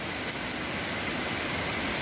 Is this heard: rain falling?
yes